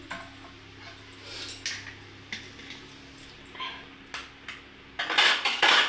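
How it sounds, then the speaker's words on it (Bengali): Eggs are cracked into a bowl for a homemade egg-and-noodle pizza: a handful of sharp shell taps and clinks, spaced apart, then a denser clatter near the end, close and moderately loud with no talking. "এবার আমি ডিমগুলো ফাটিয়ে নিচ্ছি"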